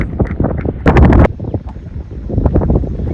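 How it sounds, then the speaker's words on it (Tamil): Strong wind buffeting the microphone at a village cricket match, with loud gusty rumbles and one heavy blast in the middle, alongside scattered thumps and faint background activity. "பயங்கரமாக காத்துங்க."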